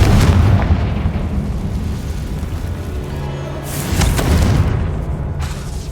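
Explosive spell blasts in the video game Hogwarts Legacy, heavy booming detonations with rumbling tails, a loud burst at the start and another near the end.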